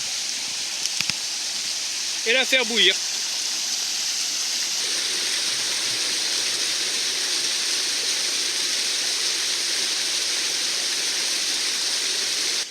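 Steady broadband rush of flowing water, like a nearby stream, runs throughout; a person speaks briefly near the start over it.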